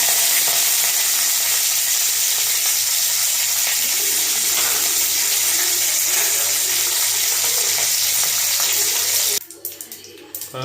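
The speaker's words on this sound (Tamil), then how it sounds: "தூதுவளை நல்லா வதங்கி வந்துச்சு" Washed thuthuvalai leaves fry in hot oil with popping mustard seeds, a loud, continuous close sizzle with crackles and stirring, cutting off abruptly near the end.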